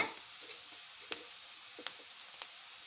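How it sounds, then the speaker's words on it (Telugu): Green chillies fry in a pan with a soft, steady sizzle, broken by three sharp spatula taps or scrapes spaced about a second apart, with no voices. "కొంచెం పచ్చిమిర్చి ఇవి కొంచెం ఫ్రై కానివ్వాలి"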